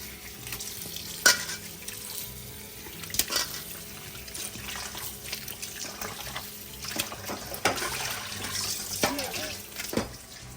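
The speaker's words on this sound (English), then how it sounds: "I'm going to wash this really good 3-4 times, get the salt out" Saltfish is rinsed under a running kitchen tap, with water streaming and sloshing close by and brief splashes and clatters as the fish is rubbed and turned.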